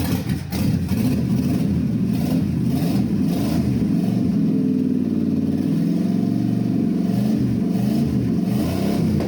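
A 1973 AMC Javelin engine runs close and loud with a rough, uneven idle and repeated revving, sustained throughout without talk.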